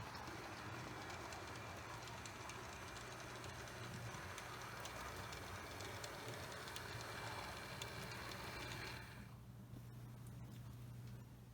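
Model New York Central Hudson locomotive pulling 20th Century Limited coaches along a layout, a steady rolling rumble with faint rail clicks, then quieter as it moves off near the end.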